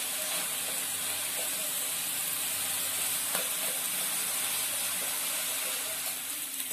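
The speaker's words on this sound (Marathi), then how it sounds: "अशा प्रकारे आपण छान कांदे भाजून घेत आहोत" Onions fry in a pan for an egg curry, giving a dense, steady sizzle and hiss that stays even throughout, with a few faint clicks of stirring.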